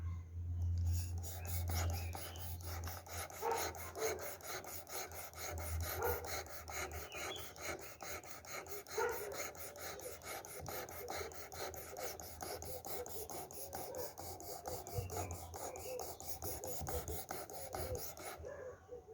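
A knife blade is drawn repeatedly across the abrasive of a WorkSharp Precision Adjust sharpener with Tri-Brasive, dry and without oil, giving a steady close rasping scrape that continues for about twenty seconds.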